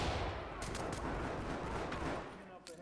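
Flashbang grenade detonating in the tactical shooter Ready or Not, a faint, muffled burst followed by a rough, sustained rumbling wash of noise, with sharp clicks scattered through it.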